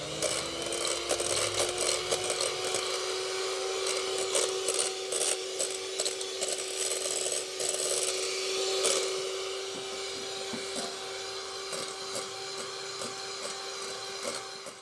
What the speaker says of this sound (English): So I've got my magic whisk that's attached to the magic plug